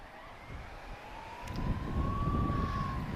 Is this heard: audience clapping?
no